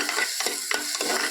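Food frying in a pan is stirred briskly, a close sizzle with a few quick scraping strokes over a brief moment, no voices.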